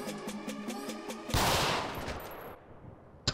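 Gunfire in a video game cuts in suddenly over a rhythmic music bed: a loud burst of shots that decays into a washy tail, followed by a sharp single crack near the end.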